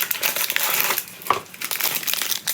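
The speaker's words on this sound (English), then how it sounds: "this is probably terrible audio of the crinkling" Crinkling of the wrapper on an individual mince pie from Speyside, a continuous close crackle of rustling and crumpling that runs throughout without pause.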